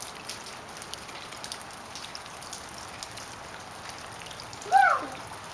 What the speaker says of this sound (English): Yep, rain.